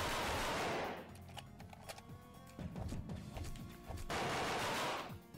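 Rapid bursts of gunfire from the video game Ballistick come in quick, dense volleys with short gaps between them, loud and close, and no one speaks.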